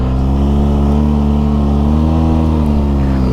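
A car engine held at high revs climbing the steep Hardknott Pass, a loud, steady drone that rises slightly in pitch as it strains, with no talking.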